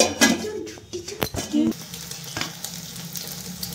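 Marinated chicken pakoras frying for chilli chicken sizzle steadily in hot oil, with a few sharp clinks and scrapes of a utensil against the pan near the start.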